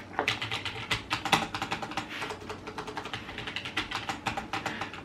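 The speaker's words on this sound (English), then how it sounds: "we need to test the clicks. So we have the tactile switches here" Steady close-up typing on a Logitech G915 wireless mechanical keyboard with tactile switches, a fast run of crisp clicky keystrokes with no voices.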